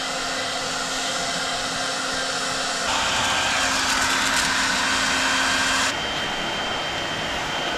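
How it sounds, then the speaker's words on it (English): A hair dryer blows steadily and loudly up close while heating old window tint off a car window on an HSV VR Senator; partway through it shifts to a higher, harsher setting and then drops back. "A friggin' hairdryer."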